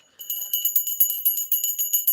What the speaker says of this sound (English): Oh, here's my bell. I found it.